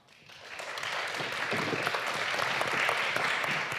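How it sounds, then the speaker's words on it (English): An audience at a science and technology summit claps for a speaker, the applause swelling quickly from nothing into a dense, sustained burst of many hands that holds steady to the end. "Let's also give him a round of applause"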